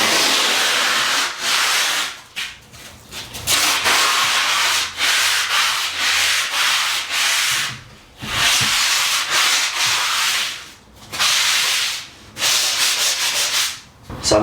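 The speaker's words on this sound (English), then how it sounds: "So I'm just going to give this all a light rub down" A foam sanding block rubs down filled plasterboard on a ceiling in steady back-and-forth strokes, a loud rasping scrape broken by several short pauses, with no talking.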